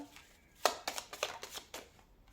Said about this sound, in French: Allez, on va tirer la toute dernière carte de ce tirage.